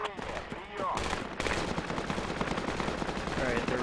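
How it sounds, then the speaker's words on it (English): Dense gunfire in the military shooter Project Reality, rapid shots and bursts crackling continuously at close range, with brief voice-like tones near the start. "I'm under heavy fire."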